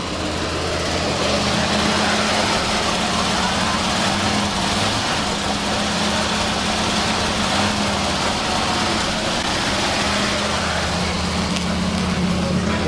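The engine of a 1979 Ford F250 runs rough at idle, a loud, continuous, slightly uneven drone that holds steady throughout.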